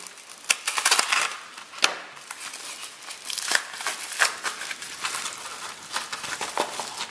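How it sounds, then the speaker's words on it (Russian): A parcel from China containing tiny USB connectors is opened up close, with crinkling plastic, rustling packaging and sharp little clicks and taps coming in an uneven run. "Открываем нашу очередную посылку."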